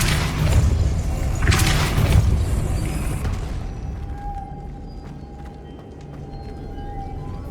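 Depulso force spell cast in the Hogwarts Legacy video game, a loud booming impact burst in the opening seconds that thuds and fades into a quieter lingering tone and faint ambience.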